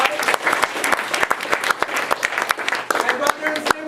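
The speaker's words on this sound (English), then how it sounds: "so give yourselves a round of applause." An improv comedy audience gives itself a round of applause at the close of a Harold night show: lively, close clapping with sharp individual claps standing out from the crowd throughout.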